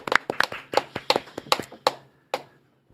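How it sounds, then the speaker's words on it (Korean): A small studio audience at a Korean talk show claps to welcome a guest: about a dozen sharp, close hand claps in an uneven burst over two seconds, then one last clap and quiet, with no talking. "박수로 맞이합니다"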